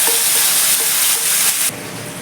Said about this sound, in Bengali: এবার আমি ম্যারিনেট করা চিকেনটা কড়াইয়ের মধ্যে ঢেলে দিই